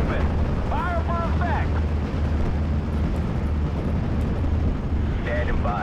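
Artillery barrage in the World War II strategy game Steel Division Normandy 44, a continuous heavy rumble of distant explosions with a dense low roar, and brief radio-like voice fragments over it.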